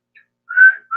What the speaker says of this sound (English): can I whistle? Yes, but not as well as I used to be able to.